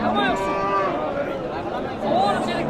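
Cows at the Shohidon cattle market give two drawn-out, fairly close moos, one at the start and another near the end, with market voices in the background.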